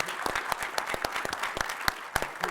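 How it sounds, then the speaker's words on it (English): An audience at a panel discussion session claps steadily, many hands striking in a dense, continuous patter with sharper individual claps standing out, moderately close and loud, with no talking over it. "Give Emily a round of meaningful applause"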